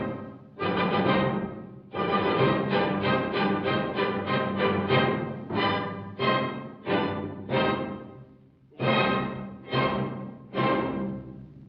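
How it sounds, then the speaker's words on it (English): A full orchestra plays an abrupt Beethoven-style movement ending: a run of loud, emphatic chord strikes in uneven rhythm, separated by short silences, with the last heavy chords after a brief pause and no voices. "This is a typical abrupt Beethoven-ish ending."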